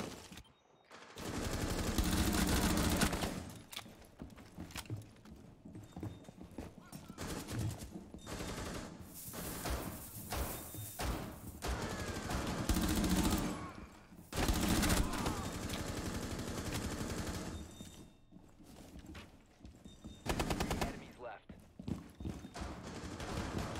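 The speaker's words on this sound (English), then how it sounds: "I'm hearing gunshots, but I don't see anything." Gunfire in a tango hunt video game, bursts of shots and rattling volleys that come and go in uneven clusters with quieter gaps between, some loud and near, others fainter.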